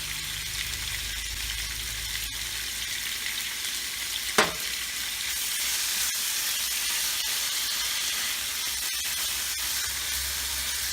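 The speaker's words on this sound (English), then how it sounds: "I'm just going to add the sliced pork." Sliced pork fries in a pan with a steady, loud, close sizzle and hiss throughout, broken once by a brief sharper burst, alone without talk.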